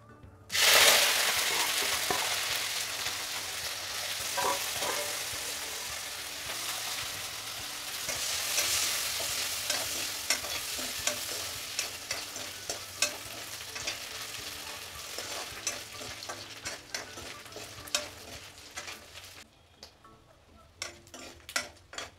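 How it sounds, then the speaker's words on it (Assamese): Dried fish frying in hot mustard oil in a pan for a kosu khar recipe, a steady close sizzle and crackle throughout with occasional stirring clinks, dying down near the end. "ইফালে শুকান মাছকেইটা মই ফ্ৰাই কৰি লওঁ গৈছে গৰম দি দিওঁ মিঠাতেল"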